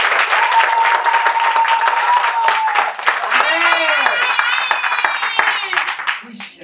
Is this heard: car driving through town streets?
no